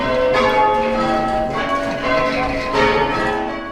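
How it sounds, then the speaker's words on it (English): Church bells ring out from towers in celebration, a loud, sustained peal of overlapping tolls with rich ringing overtones that swell and fade throughout. "Bells ring from the towers where crowds gather in celebration."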